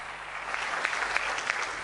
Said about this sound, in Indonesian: Saya berikan tepuk tangan yang meriah.